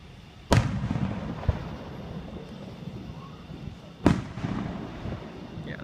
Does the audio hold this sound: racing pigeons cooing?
no